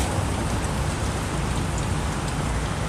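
Steady, dense rain falls outdoors near a courthouse in Portland, a continuous loud hiss with no voices.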